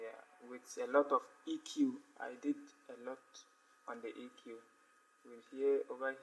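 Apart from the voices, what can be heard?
No distinct noise like a dog, phone or traffic.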